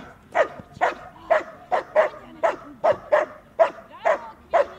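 A puppy named Kvini barks about a dozen times in a quick, even rhythm, each bark short and sharp, close and fairly loud, at a guard-dog training seminar.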